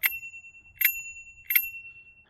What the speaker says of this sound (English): And then over here, they give you a bell.